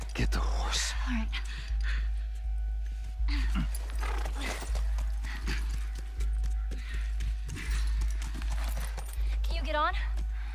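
Horse in The Last of Us game, steady clip-clop of hooves in a regular walking rhythm, close and clear, with low murmured talk and a sustained droning tone behind.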